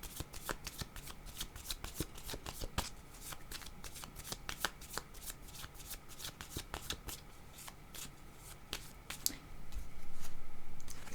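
Tarot cards being shuffled by hand, a long run of quick crisp riffling flicks and taps, close and fairly quiet, with a brief louder rustle near the end.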